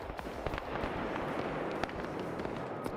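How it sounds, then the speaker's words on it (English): Distant explosions and crackling gunfire from an Arma 3 battle, where a mine or rifle grenade goes off; several sharp blasts and pops stand out over a dense, continuous background of combat noise, with no talk. "This is, I think, where either a mine or a rifle grenade went off."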